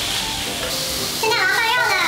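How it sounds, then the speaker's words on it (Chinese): Carrot, onion and cabbage stir-fry in a hot pan with a steady broad sizzle and hiss that swells louder partway through as the vegetables are turned, close and continuous with no talk. "然后再加一点高丽菜，把它炒软"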